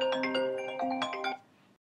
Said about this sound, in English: select a ringtone with loud volume